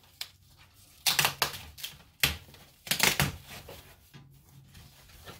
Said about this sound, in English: get all this unwrapped